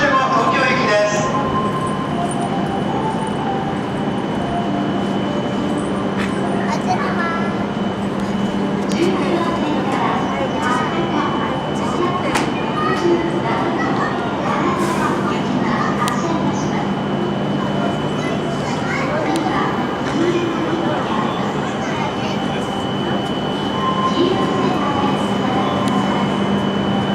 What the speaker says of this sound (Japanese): 13番線に到着の列車は16時41分発、白鷹570号東京駅です。